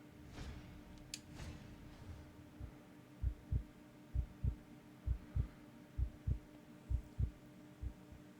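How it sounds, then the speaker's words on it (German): Calm, steady heartbeat in the Blacksad video game, a series of low soft thumps in an even rhythm, with faint breathing and a hum underneath; no talking. "ich höre einen ruhigen Atem und ruhigen Puls"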